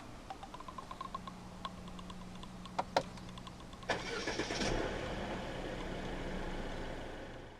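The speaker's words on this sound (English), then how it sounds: "Put your foot on the brake and press the start button to the left of the steering wheel." A 2017 Mercedes-Benz E 200 W213 Avantgarde started by push button: faint clicks and chimes, a sharp starter whir, then the engine catches and settles into a steady quiet idle.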